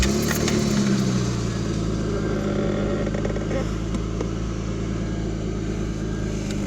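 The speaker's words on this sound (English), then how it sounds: "Hear that classic 3-liter straight 6 sound." A 1986 Toyota Supra with a 3-liter straight-six and manual gearbox idles steadily after starting, its loud, continuous low engine hum close by and even throughout, with talk over it.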